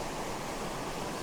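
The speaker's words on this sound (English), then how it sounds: "today we've just come to this impressive waterfall" Waterfall in the North Pennines, a steady broadband rush of falling water heard alone, close and constant with no other sounds.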